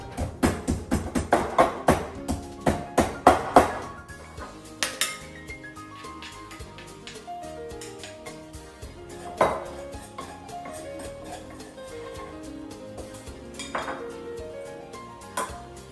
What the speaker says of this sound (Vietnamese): Để làm nước sốt thì mình giã nhuyễn tỏi và ớt.